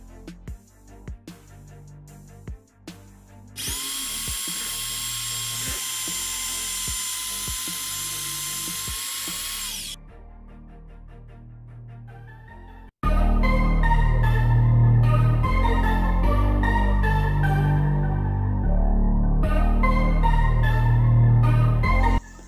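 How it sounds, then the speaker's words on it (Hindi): Power drill boring holes into a wall to mount a satellite dish, a sustained high whine for several seconds, then a louder, rougher grinding run as the bit bites in, with brief clicks between. "चलिए इसको अच्छी तरह से हम इस साइड में छेद कर लेते हैं।"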